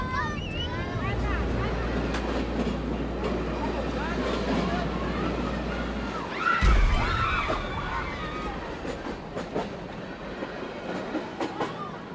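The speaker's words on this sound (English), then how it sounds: "Once again, I find myself preparing to jump on a freight train." A freight train in Mexico rolls along with a sustained low rumble, metallic squeals and clicks over the rails; a sharp screech stands out partway through, with voices faintly audible in the background.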